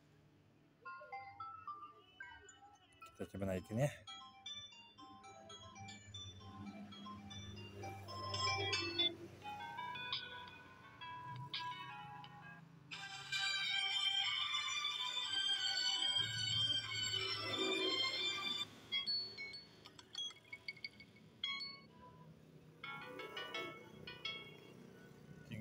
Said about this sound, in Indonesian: lalu nada dering